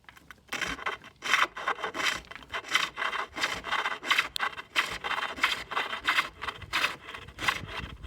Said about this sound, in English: You can see how I'm cutting here